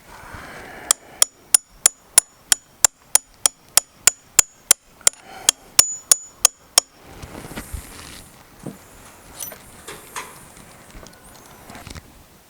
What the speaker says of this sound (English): now you're going to use your punch pin